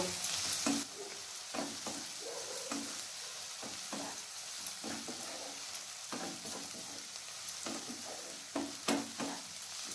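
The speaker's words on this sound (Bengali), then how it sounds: "এরপর গ্যাসের ফ্লেমটাকে হাই রেখে পেঁয়াজটাকে ভেজে নেব।" Onions sizzle steadily in oil over a high gas flame while a spatula stirs and scrapes the pan in irregular bursts, close up with no talking.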